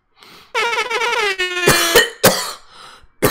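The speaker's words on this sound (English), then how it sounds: "I totally coughed in the microphone." Several harsh coughs close into a microphone during a film table read, arriving in uneven bursts with short gaps, the first drawn out and rasping, the later ones sharp and abrupt.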